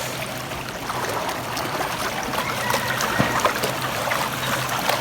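A stream at Sapang Daku in Guadalupe, Cebu, after Typhoon Odette flows with a continuous close rushing and trickling wash and no break in the sound.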